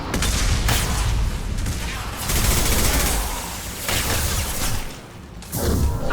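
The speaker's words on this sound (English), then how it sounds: "Firing an impact shot!" Impact shot gunfire in the Mass Effect game rolls out as a dense, loud barrage of blasts and booms. The bursts come in waves with brief dips between them.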